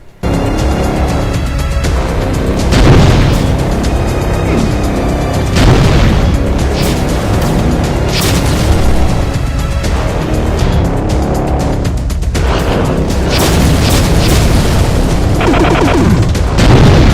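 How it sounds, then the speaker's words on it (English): A Mancubus variant in a Doom mod fires charged area-of-effect explosive bombs, producing a dense, loud, continuous barrage of booming blasts and roaring bursts, with heavy layered explosions crowding one another throughout. "It also charges up firing those area of effect lasting explosion bombs."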